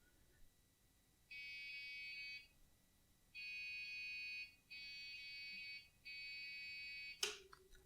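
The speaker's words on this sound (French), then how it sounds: "Bon, il bip de partout." A faulty model 780 computer sounds its hardware error beeps on startup: four long, loud, tonal beeps separated by short pauses in a quiet room, followed by a sharp click.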